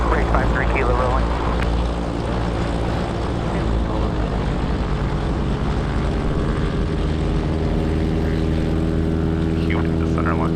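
A propeller-driven racing airplane at the start of an air race rolls for takeoff, its engine holding a loud, steady droning roar throughout, with faint radio voices underneath.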